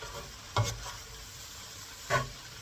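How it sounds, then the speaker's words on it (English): A spatula stirs a flour roux in a pan for homemade cream of mushroom soup, giving two brief scraping strokes over a soft, steady sizzle, close and fairly quiet, with no talking. "So I'll mix it with the spatula still."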